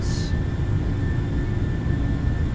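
Boeing 737-800 jet engines spool at takeoff power in a PMDG flight simulator. A loud, steady, close roar holds a constant rumble with a thin high whine throughout.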